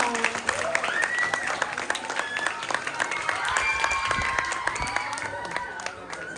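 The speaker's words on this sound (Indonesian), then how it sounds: "Beri tepuk tangan yang meriah." A school audience at a high school monologue performance in Surabaya claps after the act, dense applause with some cheering, while a voice or two carries faintly over the crowd before the clapping tapers off.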